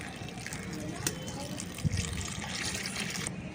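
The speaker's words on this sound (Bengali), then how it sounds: "আমি সাবুটা ভালো করে জল দিয়ে পরিষ্কার করে ধুয়ে নিচ্ছি।" Large-grain sago pearls being washed in water in a home kitchen: continuous sloshing, trickling water with a few small splashes and clinks, moderately close and steady throughout.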